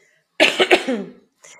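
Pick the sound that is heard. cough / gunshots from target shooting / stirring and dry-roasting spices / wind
cough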